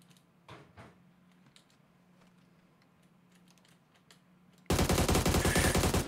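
An AUG assault rifle firing in PUBG, a sudden loud burst of rapid automatic shots that cuts in sharply after a stretch of quiet ambience with a few faint clicks.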